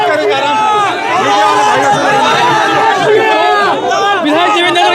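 Loud, close crowd noise at a politician's welcome on his release from jail: many overlapping voices shouting and chattering in a constant churning roar with brief dips.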